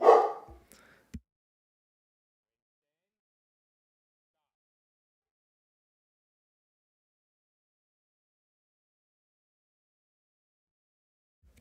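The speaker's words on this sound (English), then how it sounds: "my dog's barking at something" A pet dog barks at something in a quiet room: a short burst of a couple of barks in the first second, followed by a long silence.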